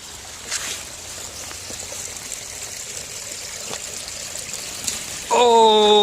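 Creek water trickles steadily into a sinkhole where the creek disappears into the ground, a soft, continuous wash, fairly faint, with a voice briefly at the very end.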